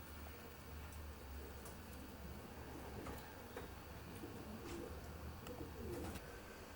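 Racing pigeons coo softly inside a widowhood loft section at the end of the season, with paired birds producing low murmuring calls over a steady background hum and occasional faint clicks.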